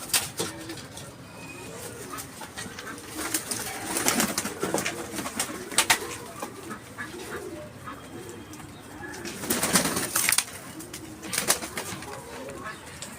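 Pigeons coo repeatedly in a loft, with soft rolling calls rising in bursts, a few wing flaps and some background noise, and no one speaking.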